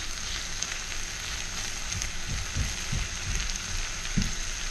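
Butter sizzles in a frying pan with liver and onions, a soft, steady crackle and fizz with a few low clicks of stirring, close by and with no talk.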